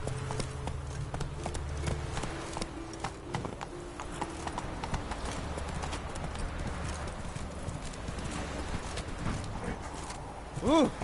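Roach, Geralt's horse in The Witcher, gallops with a steady, close clip-clop of hooves over continuous game ambience, a brief whinny near the end.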